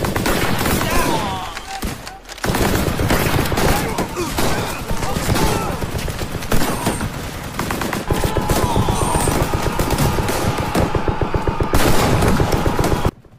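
War-film battle scene of World War I fighting, with German artillery and sniper fire against American troops: dense, continuous bursts of gunfire and fusillades fill the whole stretch, loud and close, with a brief lull near the start.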